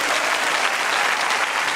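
A church congregation at a Pentecost service bursts into dense, sustained applause, loud and close, a steady wash of many hands clapping together with no break.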